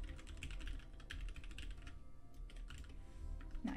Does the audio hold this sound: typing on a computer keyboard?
yes